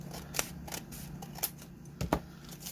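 Scissors snipping paper while trimming pages for a starter junk journal, a few quiet, separate cuts spread out with a double snip near the end, close and alone.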